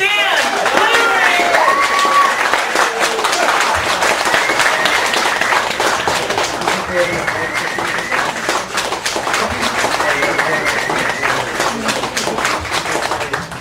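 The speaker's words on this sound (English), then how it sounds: "please, everyone, give that screaming applause that he needs for this" A cabaret audience in a Chicago gallery cafe applauds and cheers for the featured performer, loud sustained clapping with whoops and shouts near the start, continuing strongly and evenly to the end.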